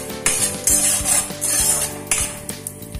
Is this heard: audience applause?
no